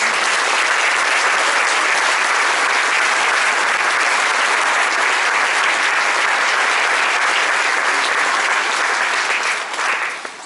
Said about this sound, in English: Please join me in a round of applause for our great Army.